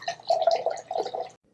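Vodka poured from a bottle into a glass, a short bubbling, gurgling stream lasting over a second before cutting off, close and clear.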